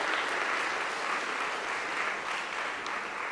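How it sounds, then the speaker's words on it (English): Sustained applause from an audience at an education conference in South Africa, honouring the host University of South Africa; steady, dense clapping fills the room at an even level throughout, with no talking. "Can we give the host institution a round of applause?"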